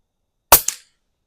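A single sharp crack from a Pinty air rifle, quickly followed by a faint metallic ping as the pellet strikes a small spinner target, alone against silence.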